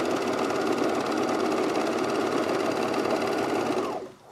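A sewing machine runs steadily and loudly while topstitching a pair of full pants, a continuous close whir that cuts off abruptly near the end, with no talking.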